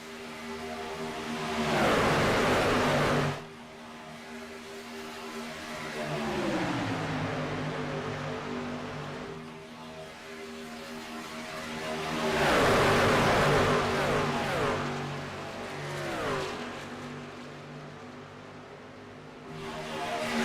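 Race trucks of the Midwest Truck Series at Talladega, engines roaring past in waves, each pass swelling loud then fading into a distant steady drone.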